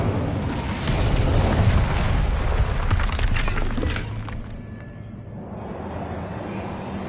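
An Incendio fire spell goes off in Hogwarts Legacy, a loud, dense, roaring rush of flame and crackling debris that holds steady for several seconds, then thins and fades.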